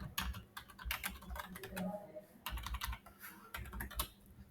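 Code being typed on a computer keyboard for a Node.js server, a steady run of close, quick key clicks in bursts, with a voice faintly mixed in.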